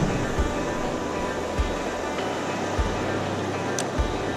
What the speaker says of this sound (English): we are here at Freeport, Texas at the beach